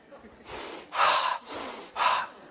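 A person breathes audibly in four slow, close rhythmic breaths, alternating softer inhales with stronger, airy exhales that have a slight nasal snort, with no talk.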